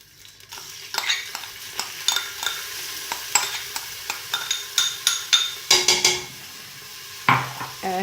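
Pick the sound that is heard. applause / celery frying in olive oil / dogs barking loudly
celery frying in olive oil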